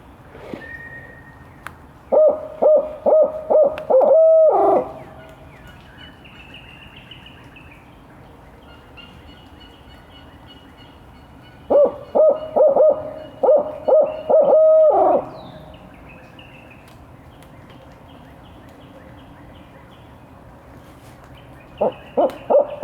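A turkey hunter imitates an owl hoot in the woods during a Mississippi hunt, giving two loud bursts of rhythmic hooting calls separated by long quiet pauses, with a third starting at the end.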